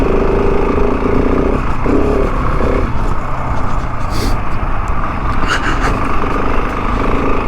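A KTM 690 Enduro R single-cylinder dual-sport motorcycle drones steadily and loud on a ride near Benton City, with wind rush throughout and brief throttle changes under a rider's speech.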